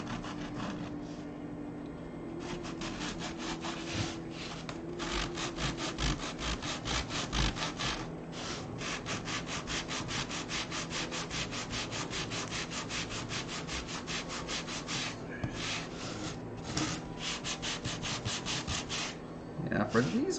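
Hand sanding of Bondo body filler with sandpaper, a fast continuous scratchy back-and-forth rasping that stays steady and fairly quiet throughout.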